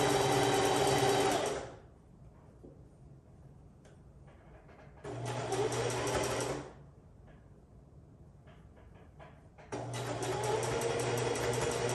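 A sewing machine stitches a half-inch seam on bloomers in three loud, steady runs separated by quiet pauses, close up and without speech.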